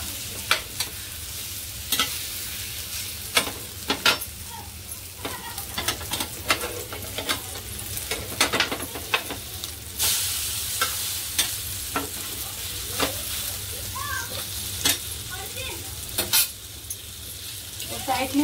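Egg bread frying in a little oil in a pan, a steady soft sizzle with occasional clinks and scrapes of a utensil turning it, continuing throughout at close range.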